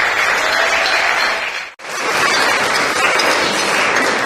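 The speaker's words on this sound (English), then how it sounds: "I think you should all give yourselves a round of applause for all that you've accomplished this year" A room full of sixth-grade middle school students applauds at an end-of-year ceremony, dense steady clapping filling the space, cutting out briefly near the middle before resuming just as strong.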